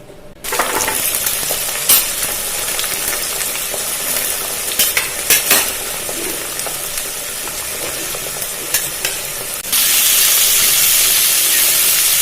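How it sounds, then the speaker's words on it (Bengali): Potatoes for a tomato potato curry go into hot oil in a kitchen, setting off a loud, close, steady sizzle with a few stirring scrapes, and the hiss grows brighter near the end. "আলু টমেটো তরকারির জন্য তেলটা গরম হয়ে গেছে, এবার মা আলুগুলো ভাজার জন্য দিয়ে দিচ্ছে।"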